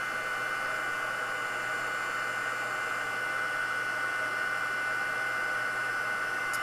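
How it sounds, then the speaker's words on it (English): An electric heat tool blowing hot air to melt embossing powder and white ink on a handmade card, a constant loud whooshing hum with a faint whine, close up and unbroken, no speech. "it doesn't take long once you have your heat tool heated up for it to melt that embossing powder and the white ink"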